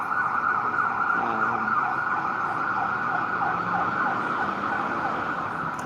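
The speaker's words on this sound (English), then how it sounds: "we're getting like ambulances and fire trucks" Wailing ambulance and fire truck sirens rise and fall steadily over constant traffic rumble, fairly loud and continuous, with no talking.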